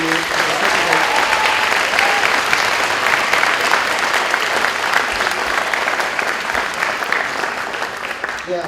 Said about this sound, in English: let's give an overall round of applause for all the youth